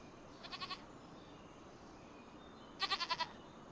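A goat bleats in Farming Simulator 25, two short bursts of four or five rapid wavering calls each, the first softer and the second louder, against a quiet background hum.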